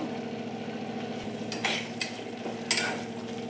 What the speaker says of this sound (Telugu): మసాలా కొద్దిగా వేగింది కదా